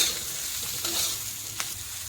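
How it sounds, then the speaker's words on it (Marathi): Green chillies fry with amchur (dry mango) powder in a pan, a quiet sizzle marked by a few scraping stirs and one brief sharp clink. "आमच्यावर पावडरने मिरच्यांना असं परतून घ्यायचं"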